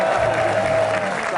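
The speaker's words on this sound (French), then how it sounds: "sous un tonnerre d'applaudissements" A television studio audience bursts into loud, dense applause welcoming a guest onto an Algerian talk show, a steady roar of hands filling the whole short moment.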